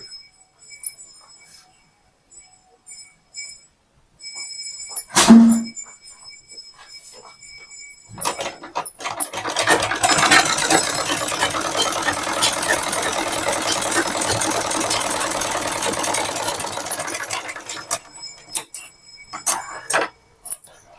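A sewing machine stitching a folded strip on a blouse back neck runs in a steady, close whirring burst of about nine seconds, framed by quieter handling clicks and a sharp knock before it starts.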